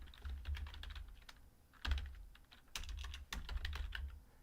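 Steady bursts of computer keyboard typing, crisp clicking keystrokes in quick runs separated by short gaps, close and moderately loud with a low background hum and no talking.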